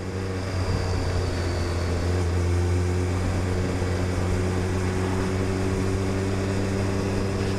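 Suzuki Hayabusa motorcycle (2022) cruising in second gear at about 3000 RPM and 30 mph, a steady low engine drone with wind rush throughout, no speech.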